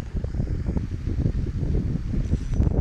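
Gusty wind buffets the microphone outdoors during a catfishing outing, a steady low rumbling roar with uneven bursts that never lets up across the whole stretch.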